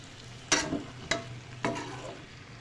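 Chicken pieces coated in pounded masala fry in a karahi, heard as a steady sizzle broken by three sharp scraping stirs, close and fairly loud with no talking.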